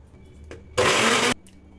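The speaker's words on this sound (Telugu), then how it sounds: "అందులోకి టమాటా కొత్తిమీరను వేసి గ్రైండ్ చేసుకుంటాను" A mixer grinder grinds tomato and coriander chutney in one loud, steady burst of about half a second. Brief quieter sounds come before and after it.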